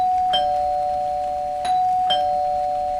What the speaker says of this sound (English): I also couldn't listen to the doorbell ring for 10 minutes.